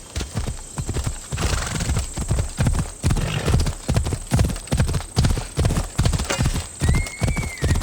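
Horse galloping in Assassin's Creed Odyssey, its clip-clop hoofbeats pounding in a steady, loud rhythm throughout, with a brief whinny near the end.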